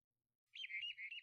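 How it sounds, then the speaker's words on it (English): Birds chirp in a quick warbling run after a moment of silence, fairly faint and alone, as island ambience in a video game. "Never mind, there's still birds chirping."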